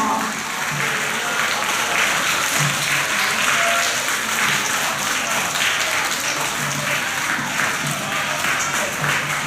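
Sustained, steady applause from a school audience at an end-of-year award ceremony for upper-grade primary students, as a student swimming medallist is honoured; dense clapping fills the whole stretch at an even level.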